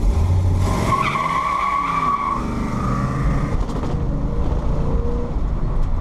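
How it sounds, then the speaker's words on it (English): A 1970 pro-touring Chevelle spins one rear tire with no traction, a sustained high tire squeal over a loud engine roar that holds for several seconds before fading as the revs drop. "My one tire fire, no traction."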